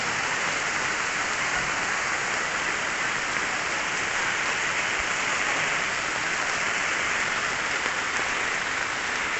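Steady, dense rain pours down without a break, a constant hiss close by with no voices.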